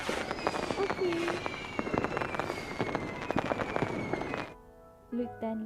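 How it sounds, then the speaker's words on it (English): A fireworks show bursts above a castle, with dense crackling pops and booms filling the air continuously before cutting off, followed by a short stretch of quieter sound with a faint tonal element. "you can still watch the fireworks show above the castle"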